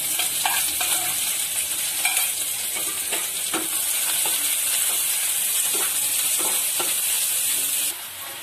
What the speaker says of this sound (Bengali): পেঁয়াজটাকে সোনালি করে ভেজে নেব